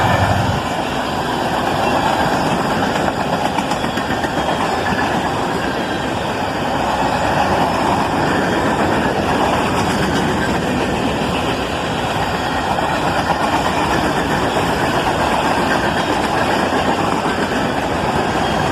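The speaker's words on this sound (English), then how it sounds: "A pair of Canadian Pacific locomotives, both ES44ACs, a very nice surprise indeed, on this covered hopper train." A pair of Canadian Pacific ES44AC locomotives haul a train of old, rusty covered hoppers, producing a loud, continuous rumble of engines and rolling wagons close by that holds steady throughout.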